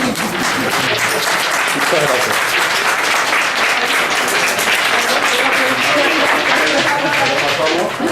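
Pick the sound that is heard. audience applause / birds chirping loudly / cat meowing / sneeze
audience applause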